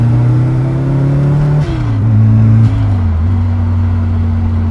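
Supercharged Toyota AE86 with a 7AGZE engine swap (4AGZE and 7AFE hybrid) accelerating through gears, loud steady engine drone with supercharger blower whine rising and dropping at each shift, close up and with no talk.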